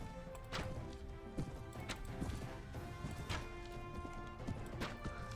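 Horse hooves galloping in Mount and Blade: Warband, Prophesy of Pendor mod, a fast, steady clip-clop through the clip under battle clashes and thuds.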